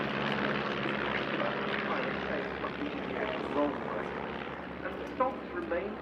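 A Stampe propeller biplane flying at the Duxford Summer Airshow 2025 gives a steady, moderately distant engine drone, while a person talks over it throughout.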